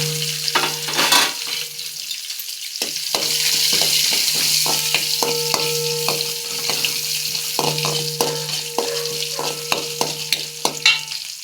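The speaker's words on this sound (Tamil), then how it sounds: "உளுத்தம்பருப்பு செவந்தோடனே வெங்காயம் போட்டுக்கணும்." Onion and urad dal fry together in a pan with a bright steady sizzle, broken by repeated clinks and taps of a spoon against the metal, no voices.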